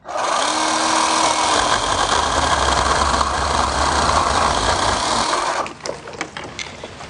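A Worx pole saw cuts through a thin tree branch with a steady, loud, buzzing whine for several seconds, then stops abruptly and leaves scattered clicks and rustles.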